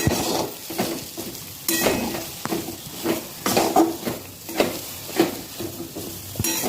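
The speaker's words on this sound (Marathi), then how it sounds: "आता आपण हा रवा छान मिक्स करून घेऊया" Semolina roasting in ghee for prasad sheera is stirred in a pan, with rhythmic scraping strokes, light sizzling and occasional metallic clinks of the spoon against the vessel, close and moderately loud, with no talking.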